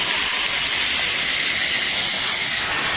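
Water from a garden hose sprays steadily inside an air-conditioner condensing coil, washing out dirt, mud and trash, a loud continuous hiss with no break.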